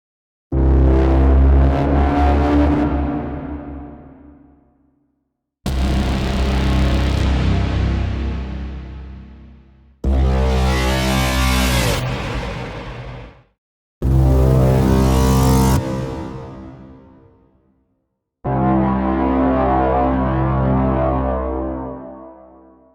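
Five massive braam hits for trailer music, each a huge distorted brassy blast that swells and decays over a few seconds, separated by brief silences, loud and alone.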